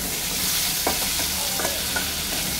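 Panch phoron spices fry in hot oil in a pan, giving a steady bright sizzle with a few soft stirring scrapes, close and alone without talk.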